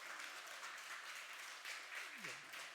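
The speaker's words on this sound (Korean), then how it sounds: "박수 한번 쳐주시죠." A church congregation applauds steadily at a Sunday morning worship service, a dense, even patter of many hands continuing throughout with a faint voice briefly underneath.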